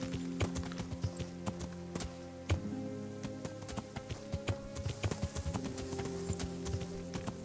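Horse hooves clip-clop in Kingdom Come Deliverance, a steady run of close, distinct hoof knocks at a walking pace over a low background hum, with no talking.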